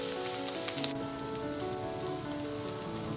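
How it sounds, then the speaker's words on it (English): Curry leaves sautéing with onions in a pan while cooking curried mutton bones: a steady, close hiss of frying oil, with a brief stirring clatter near the start. "You then add 3 stalks of curry leaves and saute together with the onions."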